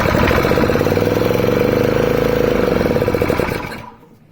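A seized 7hp Powerfist small engine, its cylinder previously filled with ATF, fires up and runs with a loud, rapid, steady putter close by, then shuts down and fades out at the end.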